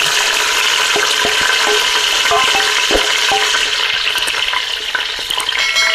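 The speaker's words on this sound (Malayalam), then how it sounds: "നമുക്ക് സവാള ഇട്ട് കൊടുക്കണം നമ്മൾ അരിഞ്ഞ് വെച്ച് സവാള" Sliced onions sautéing in hot oil for a mandi-style biryani: a loud, close, rushing sizzle with scattered pops and clatters as the pan is worked, continuing throughout.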